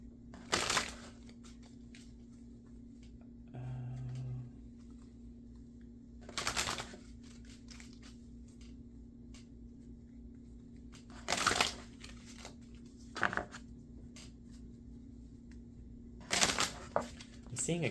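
Tarot cards shuffled by hand in several separate bursts spread over quiet stretches, each a brief papery riffle, close and soft against a low steady hum.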